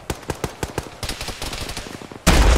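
Rapid rifle gunfire in an Arma military game, a quick burst of about a dozen sharp cracks followed by scattered shots and a sudden loud roaring blast at the end.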